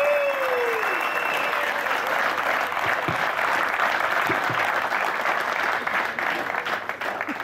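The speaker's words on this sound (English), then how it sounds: "Give a round of applause for our winners," Audience applause for the 2018 Tournament of Champions winning fishing team on the California Delta, a dense, steady wash of clapping that holds for the whole stretch, with a brief voice at the start and a few low thumps.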